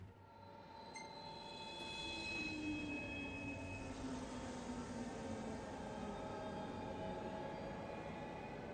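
Train riding in the video game Final Fantasy XV: a continuous rumble of railroad cars with squealing wheels and high metallic whines, building in loudness and staying steady.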